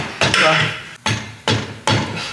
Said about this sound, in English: I was able to smack it in with the hammer.